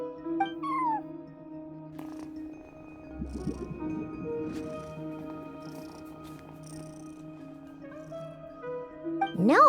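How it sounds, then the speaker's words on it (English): A cat meows in Genshin Impact with a few short rising and falling mews, one early and a louder one at the end, over a quiet sustained musical drone. "No one except for a cat watching over the front desk."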